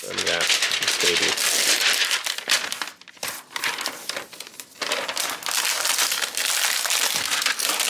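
A ThinkPad X1 Fold folding OLED laptop being unwrapped from its packaging, with loud close crinkling and crumpling of plastic wrap in bursts, briefly pausing midway before the rustling resumes.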